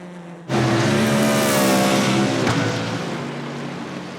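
A race car in the Digital Nürburgring sim racing game surges in loud and close, engine roaring high and steady through a heavy braking zone, then easing back as it passes.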